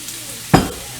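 A single quick stir of food in a hot pan produces a short scraping burst of sizzle, close and fairly loud, which then fades into a quiet background.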